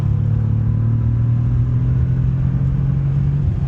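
Engine of a 2025 Bentley Continental GT Speed in sports mode: a loud, steady low rumble close by as the car accelerates, with no talking.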